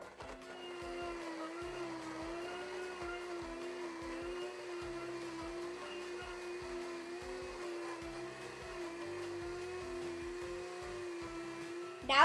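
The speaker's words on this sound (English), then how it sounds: "Now I'm gonna put the lid on and start blending" A blender runs continuously, mixing a banana split smoothie with milk. Its motor gives a steady whirring drone with a faint rattling chop underneath, holding an even level until it cuts off at the end.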